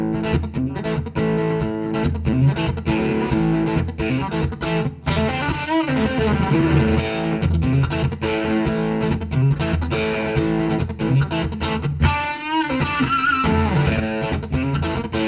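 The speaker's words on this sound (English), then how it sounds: "what you're hearing is just the tone of the pedal" Electric guitar driven through a Seymour Duncan Twin Tube Blue SFX-11 overdrive pedal, a warm distorted tone playing continuous riffs and sustained notes with no talking.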